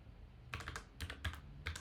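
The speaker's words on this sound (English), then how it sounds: "So here I'm going to type java jar, then Jenkins" A computer keyboard is typed on in a quiet room, short clusters of crisp clicking keystrokes in quick bursts separated by brief pauses.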